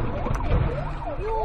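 Fire engine siren wailing in rising and falling sweeps over traffic noise, loud and near in a short burst with no talk.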